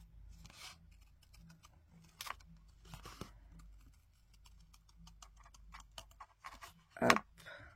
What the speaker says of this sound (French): Du coup, on va couper notre cercle,